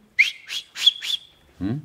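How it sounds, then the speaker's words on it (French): Three sharp, shrill finger whistles in quick succession, each short, loud and close, rising and held briefly, followed by a brief low voiced sound at the end. "il sifflera discrètement 3 fois dans ses doigts"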